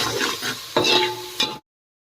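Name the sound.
stirring a spiced onion-tomato mixture in a pan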